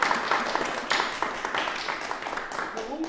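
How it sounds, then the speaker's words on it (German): A crowd applauds with steady, dense clapping throughout, fairly close and lively. "Ein extra Applaus"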